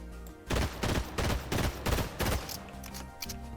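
A pistol fires in Fortnite in a rapid burst of about six loud, evenly spaced shots, close and heavy, followed by quieter game ambience.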